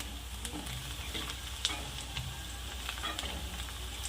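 Onions frying in a pan for sabudana usal: a faint, steady sizzle with occasional light ticks and stirring scrapes, alone without talking.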